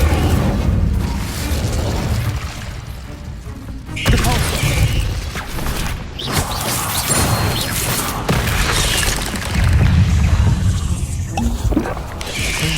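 A fire spell cast in the video game Hogwarts Legacy, giving loud bursts and booming crackles over a steady fiery rumble, with several blasts spread through the stretch amid other game noise.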